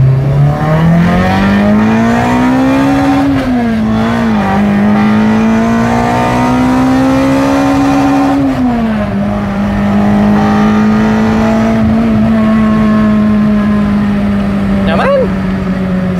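The Toyota Corolla's 2ZZ engine revs hard from first gear, its loud droning pitch climbing, dipping at a shift, then climbing again and holding high, with voices talking over it.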